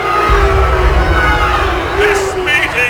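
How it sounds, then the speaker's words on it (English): A crowd yelling and bellowing loudly, whoops and cries rising over one another close by, with a strong shouted voice standing out above the mass. "The crowd were crying out for mob action"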